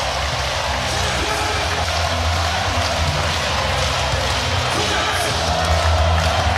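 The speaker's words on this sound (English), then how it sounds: "Crowd rising to its feet." A basketball arena crowd at a Clippers–Mavericks playoff game rises to its feet with a broad, sustained roar of cheering, dense and loud throughout, under faint commentary.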